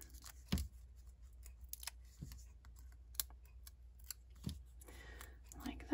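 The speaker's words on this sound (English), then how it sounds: "And then we'll just peel those off the back there." Adhesive foam dimensionals on a paper craft gift enclosure having their backing peeled off, giving soft, sparse papery clicks and crinkles, close and quiet, over near-silence with a brief voice.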